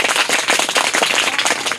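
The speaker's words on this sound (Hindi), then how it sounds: "एक बार और ताली बजा दीजिए भाई।" An audience at a general-knowledge quiz competition claps in a dense, continuous burst of applause that stays loud and close throughout.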